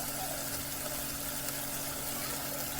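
Water poured into a pot for basmati rice paneer pulao, a steady continuous rushing pour running through the whole stretch at even loudness, with no talk over it.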